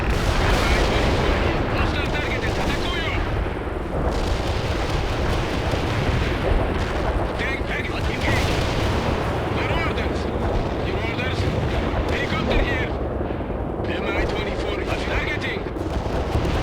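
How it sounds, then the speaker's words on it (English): Artillery strike explosions in the video game World in Conflict, a dense, continuous barrage of booming blasts and rumbling gunfire, loud and sustained, with game voices talking over it. "Artillery strike hit the mark."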